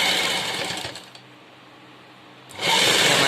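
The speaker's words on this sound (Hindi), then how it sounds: "इसकी भी लब पर सिलाई लगा लेंगे ऐसे ही" A sewing machine stitches along a fabric edge while piping is sewn in, running in a steady close whirring burst, falling quiet for about a second and a half, then whirring loudly again.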